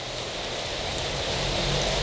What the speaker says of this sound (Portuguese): E a chuva tá caindo, chegando chuva, gente.